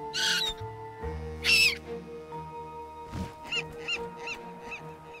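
Cartoon seagulls give a few bright, squawking calls in short bursts, with soft music running underneath and no one speaking.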